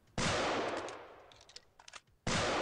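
Heavyfire weapon in Stick Warfare Blood Strike: a sharp loud shot with a decaying tail and scattered clicks, then a second blast right at the end.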